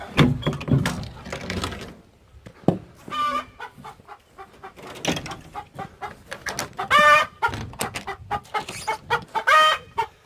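About 50 chickens in a coop at night cluck and squawk in bursts throughout, close by, with a short rooster-like call in the middle and occasional knocks and rustling.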